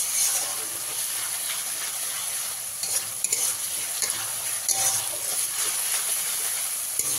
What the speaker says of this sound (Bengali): রসুন বাটাটা দিয়েও 2 থেকে 3 মিনিট ভালো করে মশলার সঙ্গে ভেজে নিতে হবে।